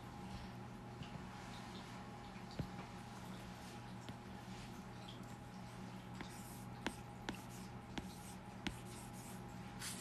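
Pencil or pen writing sight words by hand on paper, a steady faint scratching with occasional small taps, close and quiet, with no talking over it.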